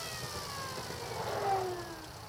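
A vehicle's electric motor runs under slow, steady throttle with a faint whine that gently shifts in pitch over a low, constant hum. It stays quiet and even throughout.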